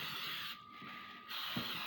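A steady hiss of aerosol cooking spray, one continuous burst of about a second, close up, followed by a faint clunk.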